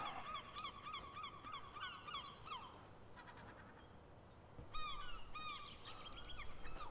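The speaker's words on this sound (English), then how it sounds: "That bird's annoying as hell." Geese honk repeatedly in a busy, overlapping chorus beside an ocean dunes golf course, steady outdoor ambience underneath and a fresh burst of calls near the end, with no talking.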